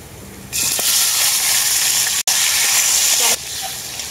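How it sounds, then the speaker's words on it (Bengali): Chopped tomatoes go into a pan of frying ginger, setting off a loud, steady sizzle that runs for about three seconds and then drops back to a quieter crackle. "টমেটোটাকেও আমি হালকা করে ভেজে নেব।"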